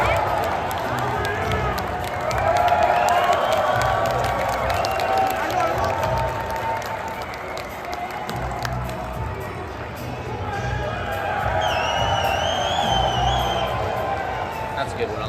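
A large crowd at a political rally in Hamilton cheers, claps and shouts continuously, a dense roar of voices and applause with whistles rising and falling, and a voice speaks over it.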